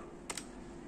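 Two quick keystrokes on a computer keyboard, close and fairly faint, set against a quiet room hum with no talking.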